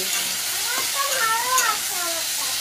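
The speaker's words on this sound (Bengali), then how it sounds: "আলু পোস্ত করবো বলে দেখো ভাজতে দিয়ে দিয়েছি আমি আলুটা" Potatoes fry in a pan for aloo posto in a home kitchen, giving a steady hiss and sizzle while a person talks over it.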